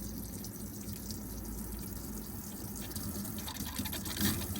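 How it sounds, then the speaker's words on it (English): Water runs from a tap in a Niesmann + Bischoff Arto motorhome in a steady, soft gush with slight splashing as air clears from the system, continuous and fairly quiet, with no voices. "Wait for the water to come through a little bit better."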